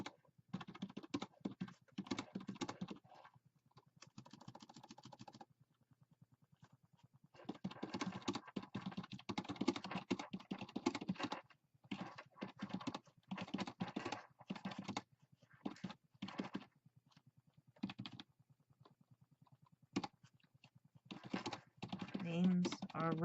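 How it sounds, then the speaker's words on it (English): Computer keyboard typing in irregular bursts of clicking keystrokes, close and fairly loud, pausing and resuming over the stretch. "I'm just going to type something."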